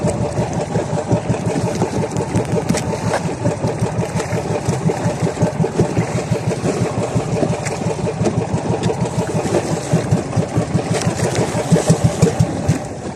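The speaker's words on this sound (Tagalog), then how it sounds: "napatay yung makina" A fishing boat's engine idles at a steady, pulsing rumble, close and loud, with no voices, out at sea in strong waves and rain.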